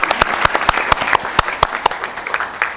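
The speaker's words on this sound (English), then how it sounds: "that's your cue to applaud" Audience at a Sacramento commission meeting applauding a newly introduced commission clerk: a steady wash of clapping from many hands, with sharper individual claps standing out, moderately loud throughout and no voices over it.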